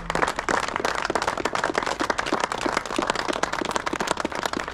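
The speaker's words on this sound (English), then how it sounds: "Round of applause for the marshals who took us round the route today." Sustained crowd applause for the marshals at an Orange parade in Petersfield, dense rapid clapping from many hands, loud and close, continuing steadily throughout.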